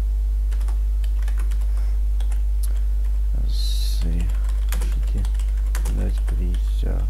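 Rapid clicking of computer keyboard keys typing chat in a role-play game, steady and close, with brief bursts of talk and a low hum underneath.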